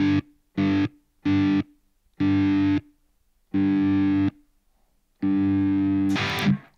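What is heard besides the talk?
electric guitar Inspector Phoenix with distortion, testing kill switch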